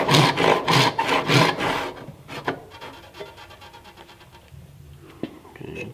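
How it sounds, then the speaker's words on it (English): A stiff back saw cuts a kerf into wood in a cast tomahawk handle, rhythmic rasping strokes up close for two seconds, then slower scraping and light knocks. "I'm using a stiff back saw, old substitute miter saw."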